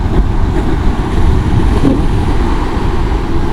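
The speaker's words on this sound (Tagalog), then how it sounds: "Lakas ng alon ngayon" Strong sea waves churn and roar continuously along a coastal road construction site in Davao during a typhoon, loud and close, mixed with gusting wind buffeting the microphone.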